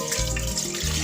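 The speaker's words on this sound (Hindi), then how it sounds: "अब इसमें पानी डाल रही हूँ" Water pours steadily into a pot on the stove, about two cups for a sugar syrup for homemade jalebi, a short continuous splashing stream close by with music playing underneath.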